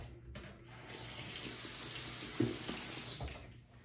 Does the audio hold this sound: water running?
yes